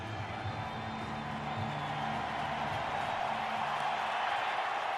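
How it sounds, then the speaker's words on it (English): Loud crowd at an NFL football stadium in Glendale for a 2009 Seahawks vs Cardinals game, a steady dense roar filling the whole stretch, with a faint voice underneath. "Loud crowd here in Glendale."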